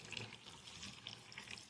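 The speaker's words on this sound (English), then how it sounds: "Now I'm adding more water." Water running from a tap pours in a faint, steady splash while fresh water fills a basin for soaking a synthetic wig.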